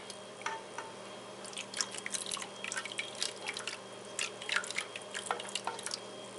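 Goat milk soap batter for a honey almond oatmeal bar poured into a pan, heard as soft, wet drips and splatters, close and quiet, over a low steady hum.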